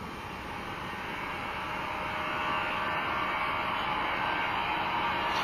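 An airplane engine gives a steady, even broadband roar that holds at a constant loudness for the whole stretch, with no talking.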